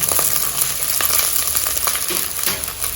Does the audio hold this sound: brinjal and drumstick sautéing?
yes